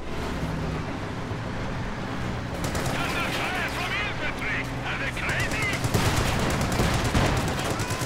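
Gunfire crackles in the Company of Heroes 2 strategy game, with rapid machine-gun bursts and scattered shots building over a rumbling battle backdrop, mixed with game noise.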